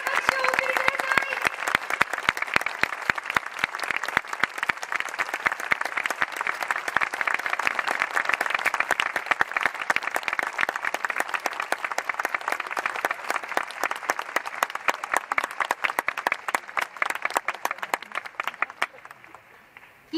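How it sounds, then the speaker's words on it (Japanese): A stadium crowd claps through a women's football season-end ceremony for Urawa Reds Ladies, with dense, continuous applause that swells, holds for a long stretch and then tapers off near the end. "皆さん、大きな拍手をお送りください。"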